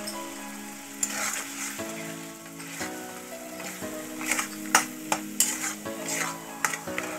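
Green peas with turmeric and salt sautéed in a wok, a constant sizzle under repeated clanking spatula strokes that grow busier toward the end, close and clear, no speech.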